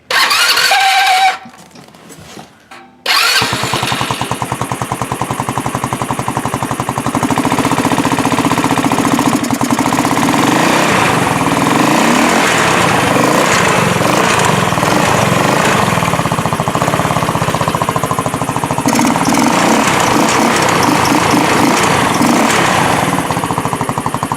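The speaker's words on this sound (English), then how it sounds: "Alright, starting it up with the stock exhaust setup." A go-kart's small engine with its stock exhaust cranks briefly, then catches and runs loudly, a rough, buzzing idle with revs rising and falling, close and unmuffled-sounding throughout.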